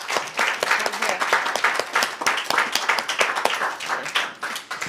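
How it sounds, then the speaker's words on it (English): An audience at an opera inclusivity roundtable applauds the panel with dense, sustained clapping that holds steady at a lively level throughout. "Would you give them a round of applause?"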